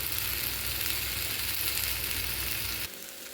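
Ridge gourd dish frying in a pan, a steady broadband sizzle holding at even loudness for nearly three seconds before dropping abruptly to a quieter hiss as the pan is covered.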